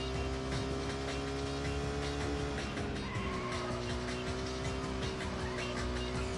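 A Lamborghini Countach in a racing video game drifting through snow, with a steady synthetic engine tone that rises in pitch and overlaps faint tire skidding, moderately quiet and continuous.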